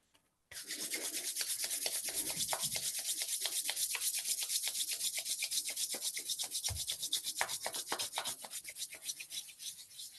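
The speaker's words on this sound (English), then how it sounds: "sometimes they find this, rubbing the nails vigorously quite helpful" Fingernails rubbed together vigorously make a continuous, rapid rasping scrub, close and steady, running alone for about ten seconds without any voices.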